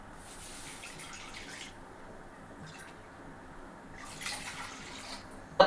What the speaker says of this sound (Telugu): దీంతోనే 2 కప్పులు వాటర్ పోసాం